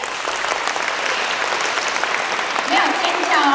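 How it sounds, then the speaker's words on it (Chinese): Applause from the audience at a primary school Mother's Day talent show, dense steady clapping that swells slightly near the end, with no voices over it. "掌声鼓励"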